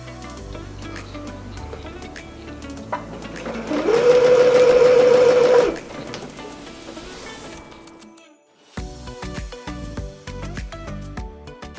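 Sewing machine stitching rows on a puff sleeve for a gown, a close steady whirring run of about two seconds that stops, set among quieter handling clicks and rustles.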